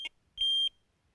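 Electronic bite alarm on a carp fishing rod sounding two short high-pitched beeps, the first very brief and the second longer, close and clear against a quiet background.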